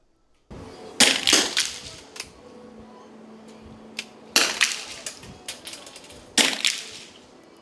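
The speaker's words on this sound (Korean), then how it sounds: "대회에 참가한 선수들이 정신을 집중해 한 발 한 발 방아쇠를 당깁니다." Air rifle shots ring out at a 50 m para shooting pre-competition, with a few sharp, loud cracks spaced seconds apart, each followed by a brief clatter, over a quiet indoor range.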